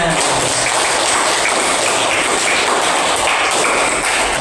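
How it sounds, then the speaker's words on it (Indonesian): Loud, dense applause from a classroom audience at a Qur'an Hadith teaching practice session, a steady hiss-like wash of many hands clapping at once with no pauses throughout. "Kita tepuk tangan untuk semuanya."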